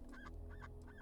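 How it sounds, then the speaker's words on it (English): A duck in the video game Starfield gives three quick nasal quacks in a steady rhythm, close and fairly quiet, with no talk. "the duck makes duck sounds"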